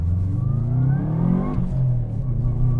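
A Subaru Impreza WRX engine drones from inside the car while driving on English roads, a steady low hum that rises and dips in pitch through gear changes, loud and close.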